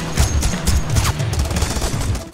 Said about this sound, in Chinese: 杰森直接开枪。